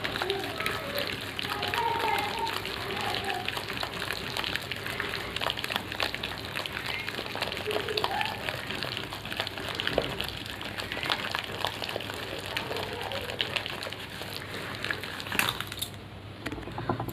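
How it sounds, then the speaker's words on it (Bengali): Soft, rapid wet slapping and churning as soaked lentil paste is beaten by hand in a bowl, continuing steadily at close range with an occasional clink of a vessel. "তো ডালটাকে আমি ভালো করে ফাটিয়ে নেব।"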